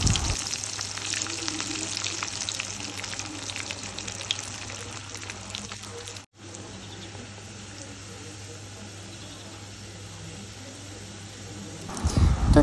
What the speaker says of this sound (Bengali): উল্টে অপর সাইডটাও আমি বাদামি রং করে ভেজে নিচ্ছি।